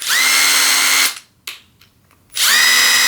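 A Bosch Freak Lite drill driver runs in forward rotation with a loud, high whine lasting about a second, stops, then spins up again after a short pause with a faint click between the runs.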